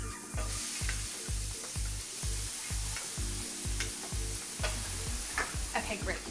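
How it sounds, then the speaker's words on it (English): Zucchini sautés in a tablespoon of butter in a pan with a continuous sizzle, broken by a regular series of low thumps and sharp scraping clicks as it is stirred, close by and with no voices. "I like to saute the zucchini as well"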